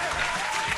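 Brief burst of steady clapping during an opening of a morning talk show, dense and close for under a second.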